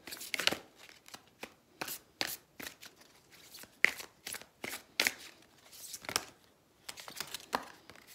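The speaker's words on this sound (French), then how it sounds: "on va prendre une carte chacun, message" Oracle cards being drawn and shuffled at a table, a quiet series of brisk papery flicks and riffles in uneven bursts, close and soft with no talking.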